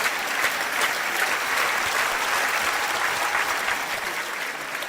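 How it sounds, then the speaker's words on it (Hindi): A seated audience of students applauds loudly and steadily, a dense wash of clapping that holds for several seconds without a break. "ताली बजाइए जोर से।"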